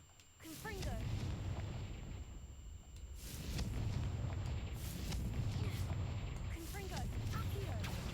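Confringo fire-blast spells from the Hogwarts Legacy video game rumble as deep, booming explosions in several heavy waves, loud and close, with a voice talking over them.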